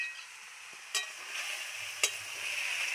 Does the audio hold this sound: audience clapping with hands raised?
no